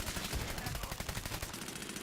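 Rapid automatic gunfire from the video game Medal of Honor Warfighter, a dense run of evenly spaced shots heard loud and continuous throughout.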